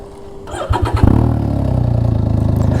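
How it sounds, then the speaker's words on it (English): A Can-Am Ryker three-wheeled motorcycle is started up close by: a brief starter whir and a few cranking pulses, then the engine catches into a loud, steady throbbing idle with a rapid even beat. "So let's start this thing up."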